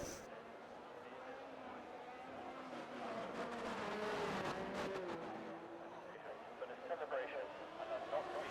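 A Ferrari race car's engine heard from onboard in a racing video game, a steady, close roar with shifting pitch as it accelerates and lifts, with faint chatter underneath.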